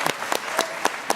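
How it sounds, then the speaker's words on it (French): Film festival audience at the Gérardmer Fantastic Art 2018 screening of Revenge, heard as short, separate bursts of clapping, about five sharp claps spaced evenly and fairly close. "De nouveau, vous pouvez applaudir Gérard May."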